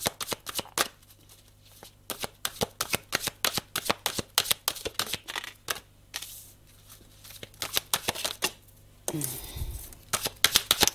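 A deck of oracle cards is shuffled up close in repeated crisp riffling bursts with short pauses between them, ending in a softer sliding swish.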